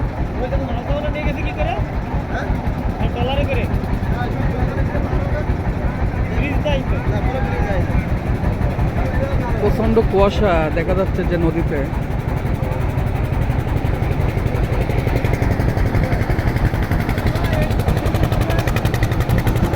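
A trawler boat's engine drones steadily and loudly while cruising a foggy river through the Sundarbans mangrove forest, its rhythmic chugging constant throughout with someone talking over it.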